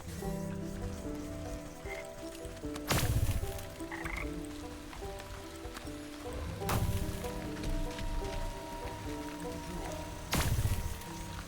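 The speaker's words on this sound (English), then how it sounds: "Oh good, frogs." Frogs croaking in a fantasy crafting game, repeated bursts of loud croaks roughly every four seconds over a steady bed of rain-like patter and soft ambient tones.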